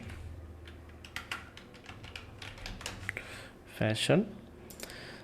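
Light clicking keystrokes on a computer keyboard come in quick uneven bursts, close and fairly quiet, with a brief louder knock near the end.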